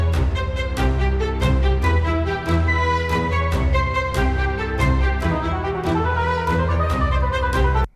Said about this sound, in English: So you can hear there is a motive being played on the woodwinds